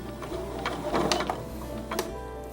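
A sewing machine runs close and fairly quietly, stitching along a drawn line on quilt block fabric with a soft mechanical rattle and a few small clicks.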